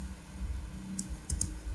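Someone types an IP address on a computer keyboard. A few quick, light key clicks sound over a steady low hum.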